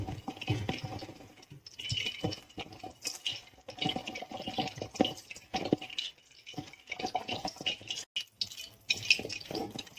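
Water is sprinkled by hand onto cut baby corn for a crispy fry, giving soft irregular patters and drips with scratchy rustling, faint and close, without talk.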